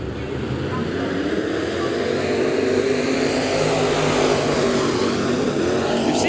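Several modified race cars roar together at Bakersfield Speedway as a heat race gets underway, a loud, steady wall of engine noise that holds constant throughout.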